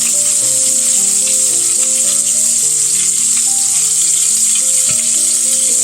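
Pork chops frying in butter and oil in a pan, a loud, close, unbroken sizzle running throughout with faint tonal background hum, no talking.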